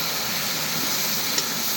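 Taro and potato frying in a pan, heard as a continuous dense hiss of sizzling oil, loud and close, with no voices.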